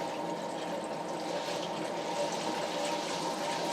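Water runs steadily from a hose into a water heater tank, a continuous rushing, gurgling fill sound with no pauses.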